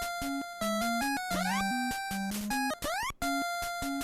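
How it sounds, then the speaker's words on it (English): Chiptune music from the NES game Super Pitfall, choppily edited into abrupt fragments with sudden jumps, gliding tones and brief gaps, loud and disorienting with no talking. "if you take a game like Super Pitfall and you hear the music"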